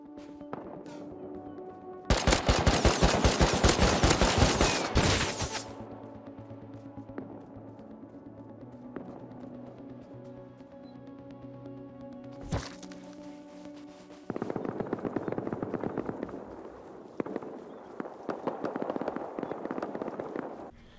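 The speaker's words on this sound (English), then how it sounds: "Then I heard a few AK shots right outside my base" AK rifle shots just outside a base in the survival game Rust: a rapid volley of sharp cracks, then a single loud shot, then more scattered bursts, all heard over a quiet, tonal ambient background.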